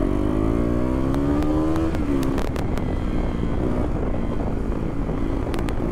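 A KTM Duke 390 motorcycle, BS4 model, runs on a ride toward a village in the hills, its engine droning loud and steady, rising slightly in pitch and then settling, with wind rush throughout and no talk.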